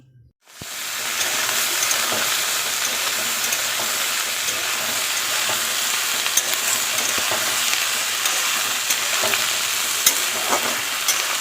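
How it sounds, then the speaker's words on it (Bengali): Chopped spring onion stalks fry in a pan with a steady, loud sizzle and crackle that starts abruptly and holds evenly throughout, with occasional stirring clicks and no voices. "পাশে পেঁয়াজকলি ভাজা বসিয়ে দিয়েছি"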